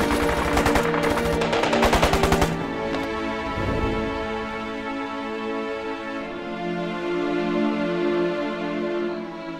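Machine-gun fire in a wartime drama about anti-Japanese resistance cavalry: a loud, rapid burst of shots over the first couple of seconds, then fading into sustained music.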